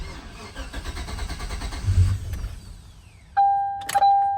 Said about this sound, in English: Let's see if she'll crank.